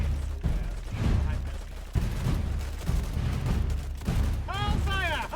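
Bursts of gunfire in the video game DayZ, with repeated loud shots and a rapid volley, mixed with people talking over them.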